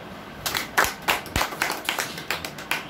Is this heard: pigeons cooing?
no